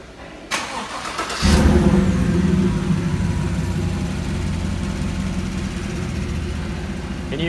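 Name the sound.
2019 Chevy Silverado engine revving, stock muffler removed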